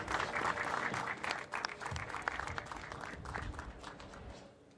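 Crowd applause for podium winners of the Saxo Rookie Cup at a DSBK national championship race, dense steady clapping from many hands that thins and fades toward the end.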